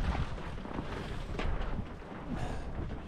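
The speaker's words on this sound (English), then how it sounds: "The wind's dropping down again." Wind blowing past a vertical axis wind turbine outdoors, a steady broadband rush with gentle swells and buffeting across the mic, no voices.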